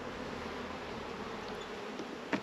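Honeybees hum softly around a brood frame lifted from a hive during a hygienic behaviour test, a low steady buzzing close by with a faint click near the end.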